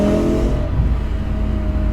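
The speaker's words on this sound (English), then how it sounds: "Obviously the V10 is probably the best sounding engine BMW have made." BMW S85 V10 engine in an E92 M3 with a manual gearbox, heard loud from inside the car as a steady revving drone whose pitch falls partway through, with no talk over it.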